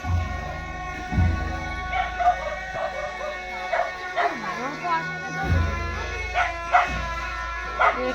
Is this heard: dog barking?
yes